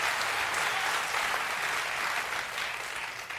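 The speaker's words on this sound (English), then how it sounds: "if you're applauding for that" A TV studio audience on a late-night talk show bursts into steady, dense applause, sustained and fairly close for a few seconds with no talk over it.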